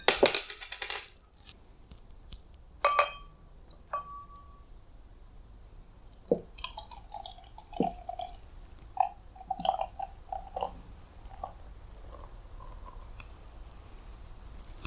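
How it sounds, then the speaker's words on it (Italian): Beer bottles of a salted Wee Heavy are opened in a quiet room, with a few sharp cap clicks and pops, the clink of glass and light handling noises spread across the stretch, with no talk. "apriamo le bottiglie"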